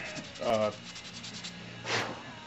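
Sandpaper rubs back and forth against wood in close, scratchy strokes, with a faint voice in the background.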